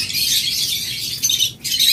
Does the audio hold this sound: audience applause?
no